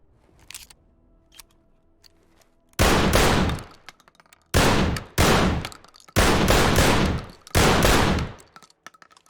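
B1301 semi-auto shotgun fired in the tactical shooter game Ready or Not, six loud, booming blasts after a quiet lead-in, the last several coming in quick pairs, each ending in a short decaying tail.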